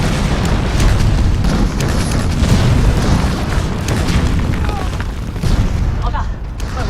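Artillery shelling pounds outposts in a war film battle, a dense, continuous barrage of heavy booms and bursts rolling loud and close with no pause, mixed with rumble throughout.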